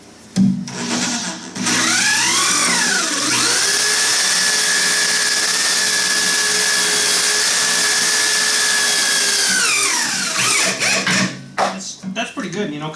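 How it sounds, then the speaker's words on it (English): A power drill bores through a 1/4 to 1/2 inch steel plate during a mini excavator trailer build. The motor whine rises, then holds a steady, loud, close grinding tone for several seconds before winding down, with no one talking. "that's drilling through a piece of 1/2 inch or a 1/4 inch steel too"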